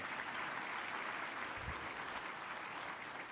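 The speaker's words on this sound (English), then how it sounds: "Please, let's give a big round of applause." A crowd applauds steadily at an awards celebration, a soft, even patter of many hands clapping that sounds somewhat distant.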